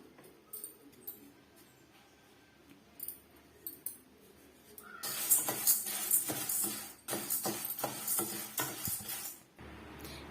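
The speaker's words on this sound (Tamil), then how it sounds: "இப்போ மீடியமான ஹீட்ல வச்சு நம்ம வறுத்து எடுத்துக்கலாம்" Lentils dry-roasting in a pan on medium heat for idli podi, quiet at first, then a rattling, scraping stir and light sizzle of dry grains against metal, moderately close.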